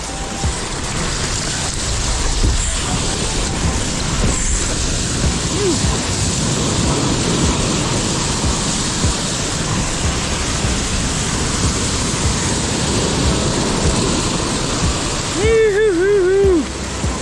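Small clean ocean waves surfed on a stand-up paddleboard, a steady broad wash of surf and moving water heard close and loud throughout, with a short whistling tone near the end.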